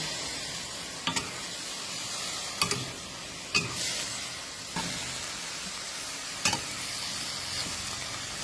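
Lotus stems sizzle steadily in a pan during a stir-fry, with a constant frying hiss broken every second or two by sharp scraping strokes of a spatula, close and moderately loud.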